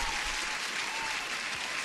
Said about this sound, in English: Let's give an applause for Polo.